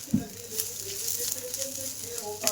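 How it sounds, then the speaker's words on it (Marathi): Coconut and onion masala roasting in a pan, a steady soft sizzle with light stirring scrapes and a couple of sharper clinks, close and alone. "आता हे आपण मस्त मसाला चांगला भाजून घेऊ."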